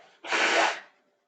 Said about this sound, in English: so I'm like sneezing and coughing